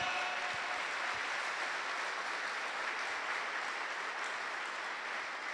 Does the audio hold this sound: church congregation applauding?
yes